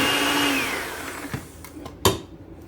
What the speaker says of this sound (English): we're gonna mix this. It's gonna be loud, I'm sorry. We need to mix it on medium-high speed for at least 3 minutes